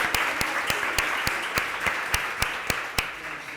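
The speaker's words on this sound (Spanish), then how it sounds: "Un fuertísimo aplauso para ella" Audience applause at a Spanish-language literary panel event, a steady wash of clapping from a seated crowd with sharper individual claps popping out at regular intervals, moderately loud and with no talk over it.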